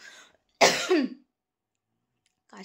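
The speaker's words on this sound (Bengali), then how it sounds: "কাশি হচ্ছে।" A person gives a sharp, close cough with a rough, throaty tail, surrounded by near silence and brief faint sounds at the start and end.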